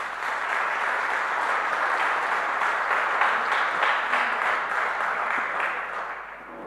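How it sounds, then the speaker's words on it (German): Warm, sustained applause from the audience at a salon evening hosted by a publisher in a hall, a steady wash of many hands that swells slightly then tapers off toward the end. "Herzlichen Applaus"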